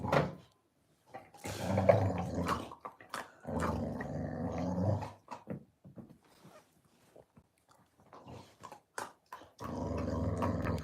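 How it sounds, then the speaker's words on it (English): A husky growls and grumbles in long vocal stretches, then lets out a few short, sharp barks close by, with brief quiet gaps between. "And then she starts barking."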